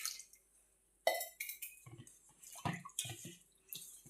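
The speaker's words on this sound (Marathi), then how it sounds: "आता आपला रवाही त्याच पद्धतीने धुवून घ्यायचा आहे." Semolina is rinsed in a bowl of water, with sloshing splashes, drips and clinks of the vessel coming in short bursts after a near-silent start.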